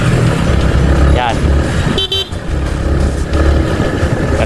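During a road bike race, a motorcycle runs close by amid traffic noise, with short horn toots cutting through and a voice speaking over the engine.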